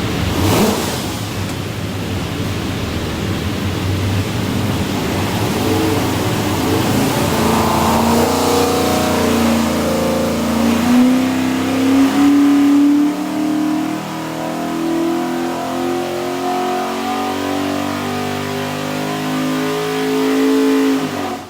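A stack-injected 427 Ford V8 on a dyno runs loud and close, its throaty engine note climbing steadily as the revs build through a full pull.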